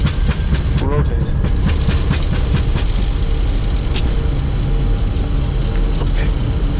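Challenger 604 business jet engines run at takeoff thrust on departure from Munich, a loud, constant cabin roar with rattling and rumbling throughout, heard from inside the aircraft.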